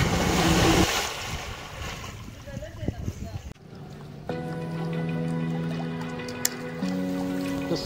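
Water splashes and churns up close in the large swimming pool of the Sonar Bangla hotel for a few seconds, then gives way to calmer sounds and music.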